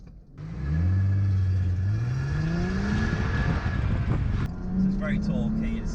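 A Chrysler Crossfire launches from a standing start on a track. After a brief quiet moment the engine roars up loud and close, its pitch rising steadily, then drops on a gear change before climbing again.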